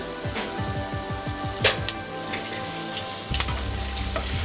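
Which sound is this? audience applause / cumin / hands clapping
cumin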